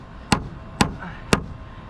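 Three sharp, evenly spaced hammer strikes from a 16-ounce hammer driving nails into architectural roof shingles on a mansard roof, each a crisp close impact with a short ring-off and quiet gaps between.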